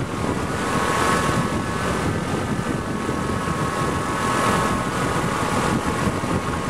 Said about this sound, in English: We got a gust, a little gust.